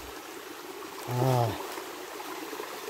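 A waterfall and mountain stream flowing over slippery rocks make a steady, broad rushing hiss throughout, with a brief vocal utterance in the middle.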